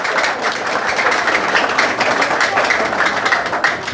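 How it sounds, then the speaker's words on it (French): Audience applause at a BSAP gathering in Haiti, a dense, continuous wash of clapping held at a steady loud level throughout. "je vous demande d'applaudir chaudement"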